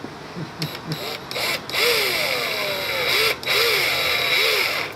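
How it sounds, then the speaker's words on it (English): A power drill whines and grinds in bursts, pitch rising and falling as it bites into a soft rubber grommet in a Ford Mustang firewall, loud and close with brief pauses. "now we gotta take our little grommet here and try to drill it out"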